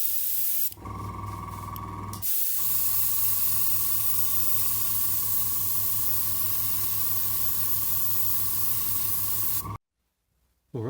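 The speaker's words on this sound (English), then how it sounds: "I'm just going to spray straight on Vallejo Model Air Metallic Black, which is a really nice colour for these blasters" Airbrush spraying Vallejo Model Air Metallic Black paint onto plastic model blasters from a Bandai 501st Clone Trooper kit: a brief hiss, a short pause, then a long continuous close hiss that stops abruptly near the end.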